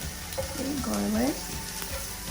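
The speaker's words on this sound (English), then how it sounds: "and I will add the garlic" Tiny minced garlic hits hot oil in a pan for Chinese fried rice, a steady close sizzle with a brief voice over it.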